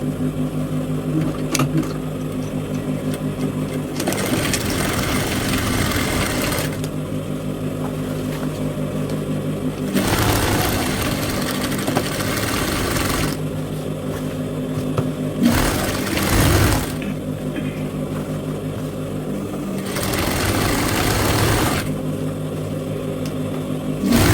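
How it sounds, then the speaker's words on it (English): Sewing machine running in bursts while stitching a pleat on Ankara fabric for a pleated ruffle turban cap, a steady mechanical whir starting and stopping several times over a constant background hum, with no talk. "So I have my second pleat. I'm going to stitch it now."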